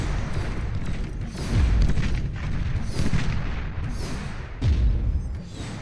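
Tsar tanks in the Beyond All Reason real-time strategy game fire heavy cannon blasts, deep booms recurring every second or so over a dense, rumbling battle din.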